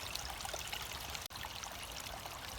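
Waterfall heard from its base, a steady broadband rush of falling water with constant level, fairly faint and unbroken apart from one brief dropout midway.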